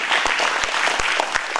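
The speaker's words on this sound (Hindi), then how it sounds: "आप सबकी जोरदार तालियों के बीच" Loud audience applause in a hall during a Guru Tegh Bahadur anniversary literary gathering, a brief burst of steady dense clapping with a few sharper claps standing out.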